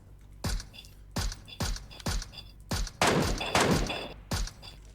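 Gunfire in a shooter video game: about eight separate bursts of shots at a steady rhythm, moderately loud against a quiet background, with a denser cluster near the end.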